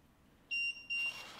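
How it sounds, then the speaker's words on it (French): Electronic device emitting two short high-pitched beeps in quick succession, clear and fairly loud over a quiet background hiss. "Juste le dernier bip qu'on aura."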